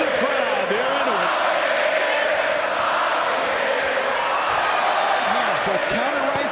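Boxing arena crowd at a Pacquiao–Marquez fight, a dense continuous roar of many voices with rising chants, under a commentator's voice.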